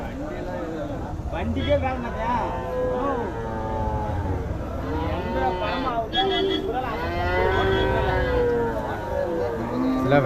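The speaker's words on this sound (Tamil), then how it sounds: "ரெண்டுமே காளை மாடு" Bulls mooing repeatedly at a cattle market in Uthangarai, long drawn-out lowing calls one after another, fairly close, with some background voices and outdoor noise.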